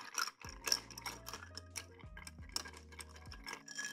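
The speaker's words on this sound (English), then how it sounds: "Give it a stir." A gin cocktail stirred with ice in a glass, a steady run of quiet close clinks and taps that repeat irregularly for several seconds.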